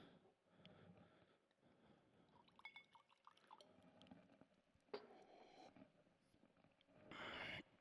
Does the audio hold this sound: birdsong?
no